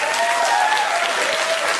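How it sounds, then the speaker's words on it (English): A studio audience at a Bill Maher show breaks into steady, dense applause, close and loud, sustained throughout without pause. "everyone who just clapped is thinking the same thing"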